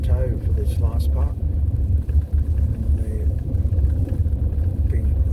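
Motorcycle cruising slowly back across the Bonneville Salt Flats, a steady low engine rumble heard up close throughout, with a voice talking over it.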